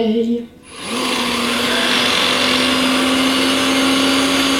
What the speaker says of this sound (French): je prends mon aspirateur